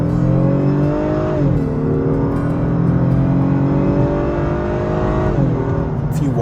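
The 3.5 liter V6 of a 2026 Honda Passport pulls hard under acceleration, a loud steady drone rising in pitch through two gear shifts, heard from inside the cabin.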